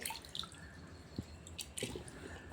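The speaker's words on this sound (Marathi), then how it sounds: "आपण हे पाणी पूर्ण निथळून देऊया" Water draining and dripping off freshly washed raw mangoes, a few soft drips and wet squishes, quiet and close with no talking.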